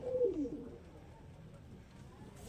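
Giribaz pigeons give a low, soft coo near the start, and faint rustling follows in a quiet room.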